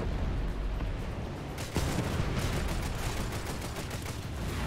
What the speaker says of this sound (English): I can try actually and MG the guy.